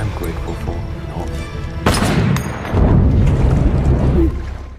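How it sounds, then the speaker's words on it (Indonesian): A gunshot in a film scene, one sharp loud crack followed by rumbling, busy background sound and movie score mixed with voices. "ternyata Miguel sengaja menembak anaknya Gomez sebagai peringatan agar si Gomez mau bertobat"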